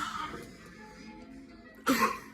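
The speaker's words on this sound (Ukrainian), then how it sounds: "Моє заченятку кашляє." A brief cough sounds at the start, followed by a quieter stretch and then a sharper, louder cough near the end.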